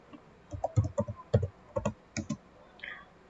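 A computer keyboard is typed on in short clustered bursts of crisp keystrokes while a router configuration is entered. The clicks sound close and moderately loud, with no talk over them.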